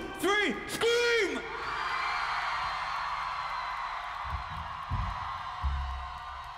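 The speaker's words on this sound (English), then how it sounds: "everybody here tonight, fucking scream their heads off, okay?" A concert crowd at a live show at Muzofest 2015 screams together, a broad sustained roar lasting several seconds after two sharp rising whoops at the start, then fading under low thumps.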